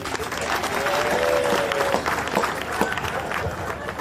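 A crowd at a meal after an ordination mass applauds loudly, with steady clapping and background crowd murmur over several seconds.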